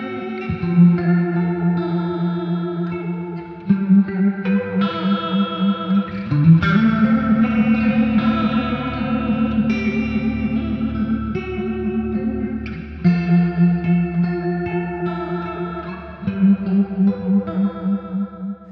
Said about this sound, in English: they've taken 12 analog style effects and piled them in here to where they sound amazing